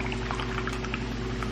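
Sparkling coconut water with yuzu pouring into a glass, a steady fizzing, bubbly liquid stream heard up close and fairly loud throughout, with no voices.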